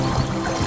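River water running beneath a spot in the countryside near rice paddies, a dense, close rushing wash that stays steady and loud throughout the brief moment, without speech.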